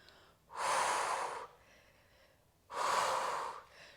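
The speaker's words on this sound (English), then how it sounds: "Inhale and exhale." Two long, forceful breaths close to the microphone during a Pilates workout, a deep airy inhale followed by a pause and a second audible breath, with no talking.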